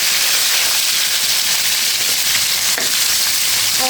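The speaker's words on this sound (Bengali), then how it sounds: "মাছটা কিন্তু আমার খুব সুন্দর করে ভাজা হচ্ছে" Snakehead fish frying in hot oil, a steady loud sizzle and crackle that fills the whole stretch with a few sharper pops near the end.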